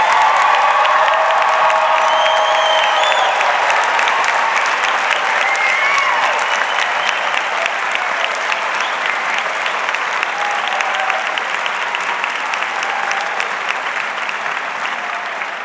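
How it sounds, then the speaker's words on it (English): An audience at a nursing school commencement applauds the graduates, giving a dense, sustained roar of clapping with scattered cheers that holds loud for about fifteen seconds and eases only slightly toward the end. "So one more round of applause for all of our graduates."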